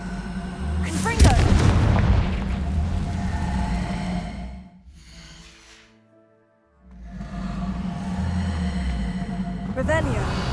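Confringo explosive spell cast in Hogwarts Legacy on Xbox Series X, with a loud boom over a rumbling game soundscape, a near-silent gap midway, then another explosive burst toward the end.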